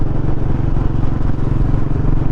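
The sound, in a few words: Royal Enfield Bullet 350 motorcycle engine while riding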